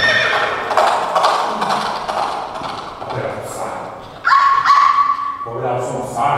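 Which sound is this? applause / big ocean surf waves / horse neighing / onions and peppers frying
horse neighing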